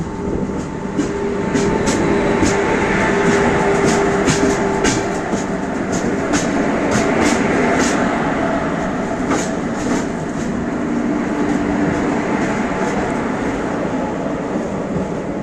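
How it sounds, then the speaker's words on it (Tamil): The Deccan Queen Express, with Kalyan shed WAG-7 banker locomotives nearby, gives a loud, steady rail rumble with repeated clickety-clack wheel beats throughout and no talk. "இதுதான் நம்ம வண்டிக்கு அட்டாச் பண்ண போகிற பேங்கர் லோக்கோஸுங்க"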